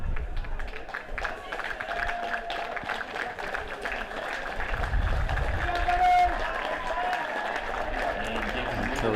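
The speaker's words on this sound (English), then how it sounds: "Encouraged on by an enthusiastic crowd" An enthusiastic crowd at a secondary school track and field championship applauds and cheers during a 400 metres race, a sustained, fairly distant roar of clapping and voices running under a commentator's speech.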